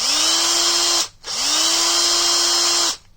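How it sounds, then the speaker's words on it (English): An old, worn Ryobi cordless drill runs on a converted 24-volt lithium-ion battery, whining loudly up to a steady high pitch. It runs twice, each burst about a second and a half, with a brief stop between. "this is an old, worn-out Ryobi drill"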